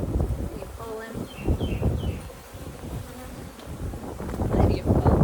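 Honey bees at the hive during a check-up of Queen Ivy's colony hum in a dense, continuous buzz close by, with rustling handling noise and a few faint bird chirps mixed in.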